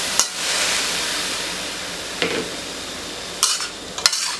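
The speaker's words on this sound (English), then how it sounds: "So the crickets are going into the frying pan." Continuous sizzling from crickets, still with a little water and pandanus leaf, stir-frying in a wok, broken by a few sharp clinks and scrapes of a utensil against metal.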